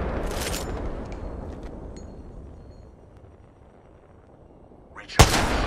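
Apex Legends gunfire: a loud shot opens, a few faint distant pops and clinks follow over a fading rumble, then a sharp, powerful blast cracks near the end.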